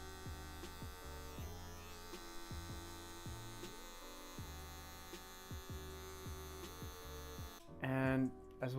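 Barber's electric hair clippers buzz steadily at close range while cutting a fade, with a constant mains-like hum and short rhythmic pulses as the blade flicks through the hair, briefly louder near the end.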